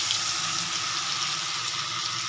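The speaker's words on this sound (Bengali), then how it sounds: "এবার পনিরটা ভেজে নেব।" Paneer frying in a pan of hot oil, a steady close hiss and sizzle with no other sounds.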